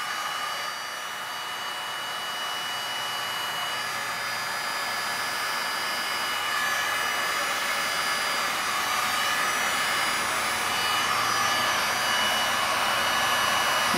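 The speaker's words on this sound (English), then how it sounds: "I don't know, just a little heat gun." A heat gun blowing over the final layer of a 20 by 40 resin art piece, a loud, steady, close whooshing roar that holds without a break throughout.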